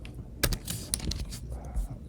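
Close, quiet keystrokes from one-handed typing on a computer keyboard, arriving in an irregular scatter of light clicks with short pauses between them.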